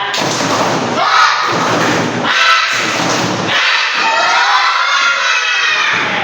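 A third-grade class chants tepuk semangat together, shouting in unison between bursts of rhythmic group clapping, loud and close, with brief pauses marking the phrases.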